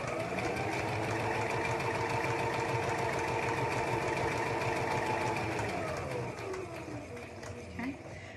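A sewing machine top stitches a small child's hat, running steadily for several seconds near and fairly loud before easing slightly toward the end, with a brief pause and restart as the fabric is pivoted at a corner.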